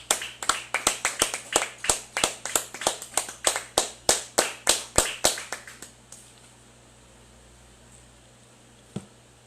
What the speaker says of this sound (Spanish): le damos al Rey de Reyes y Señor de Señores el más fuerte aplauso